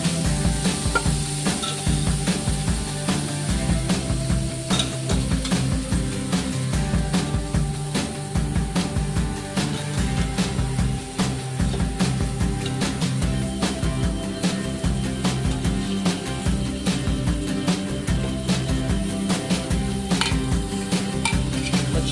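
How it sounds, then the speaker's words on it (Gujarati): Soaked and cooked chickpeas are stirred with spices in a pan. A loud, close, rhythmic scrape and clatter of a spoon against metal goes on over a low sizzle for the full length, with no speech. "એને ઘુમાવી લેવાનું છે, મિક્સ કરી લેવાનું છે"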